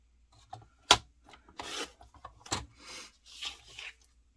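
Paper card for a pop-up card is trimmed a quarter inch at top and bottom. The soft, close rubbing and rasping strokes come in short irregular bursts with one sharp click, fairly quiet overall.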